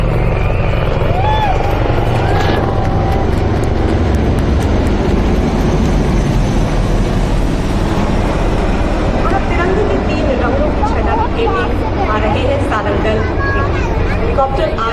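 Military helicopters fly over the Republic Day parade on Kartavya Path, a steady low rotor drone with crowd hubbub underneath throughout, and people speak nearby.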